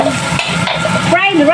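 Fried rice stirred and tossed in a pan, with steady scraping and clattering from the spatula and a light sizzle running through the short stretch.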